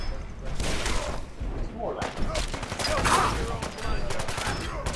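Dense bursts of gunfire rattle almost without pause while fighting enemies in Fallout 4's Far Harbor, with heavy thuds and booms mixed in and a voice talking over the shooting.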